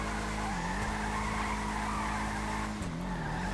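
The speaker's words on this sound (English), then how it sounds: "the Benny's variant of the Gauntlet Classic is laying down some serious rubber in this first test of the low-speed drifting" A Bravado Gauntlet Classic Custom (Benny's variant) drifts at low speed in GTA 5, its tires emitting a steady, loud squeal over a droning engine, with the pitch wavering slightly as the slide continues.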